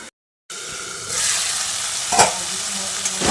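Potatoes and spices cooking in a covered pan for a Bengali fish roe curry, a steady close sizzle after a brief silent start, with a faint clatter of the lid or spoon partway through.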